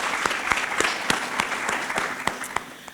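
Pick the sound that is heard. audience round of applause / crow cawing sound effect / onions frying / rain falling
audience round of applause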